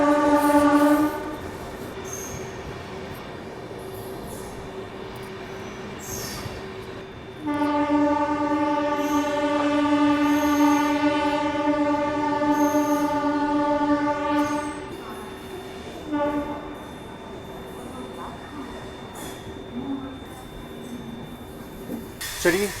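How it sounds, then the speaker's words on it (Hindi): The Maharashtra Sampark Kranti Express rolls along as it slowly picks up speed, with a steady, loud horn-like tonal drone that starts, stops and resumes over a constant rumble of wheels on track. "लेकिन हाँ एक चीज़ ये है कि अभी ट्रेन जो है वो धीरे धीरे रफ्तार जो है वो पकड़ रही"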